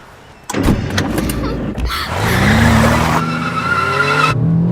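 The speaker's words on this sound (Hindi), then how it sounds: "इतना तेज क्यों चला रही हो?" A car driven fast, with engine roar, a sustained skidding tire squeal and wind rush building over several seconds, close and loud with no speech.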